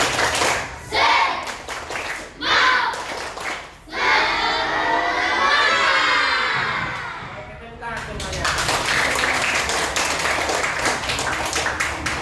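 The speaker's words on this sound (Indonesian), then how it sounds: "ayo tepuk semangat" A class group does a rhythmic spirit clap, clapping in quick rhythmic bursts, breaking into loud shouting and chanting together, then clapping and cheering again.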